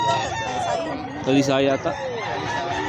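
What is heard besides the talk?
young rooster crowing at pet market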